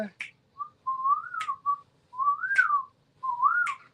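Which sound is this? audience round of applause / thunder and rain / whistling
whistling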